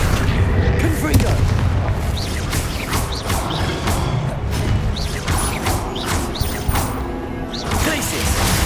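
Confringo fire spells going off repeatedly in Hogwarts Legacy combat, loud booming blasts and crashes in a dense, continuous barrage with game effects and shouted spell incantations layered over them.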